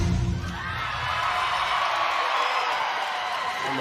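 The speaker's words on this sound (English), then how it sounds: "And the home crowd loves it." Home crowd at a BYU college gymnastics meet cheering and roaring in a large arena, a broad sustained wash of cheers and whoops that holds steady after a brief louder start.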